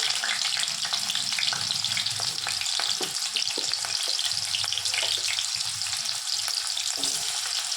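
Yam and other hard winter vegetables fry in a pan over a green-chilli tempering, giving a loud, steady sizzle with occasional stirring clatter and no talk throughout.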